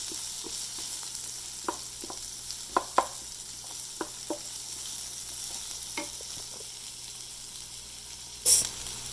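Chopped onions sauté in a pan for a cauliflower makhani masala, a soft steady sizzle under a constant hiss, broken by occasional clicks and taps of stirring, with no talking.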